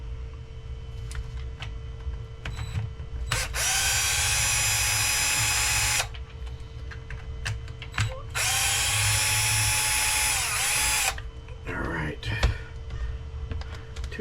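A power drill backs screws out of the front end of an Arrma Limitless V2 RC car in two loud, sustained whirring bursts of a few seconds each, with small handling clicks and rattles between them.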